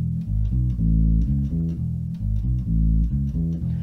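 Bass guitar plays the riff of a 1965 soul song, as a short repeating pattern of punchy low notes in steady rhythm, loud and alone.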